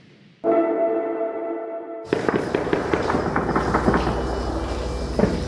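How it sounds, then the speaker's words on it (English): Gunfire in the empty streets of Afghanistan: after a droning tonal hum, a dense crackle of rapid, echoing shots and pops rolls on for several seconds, fairly loud and reverberant, with no speech. "We can only hear a gunfiring"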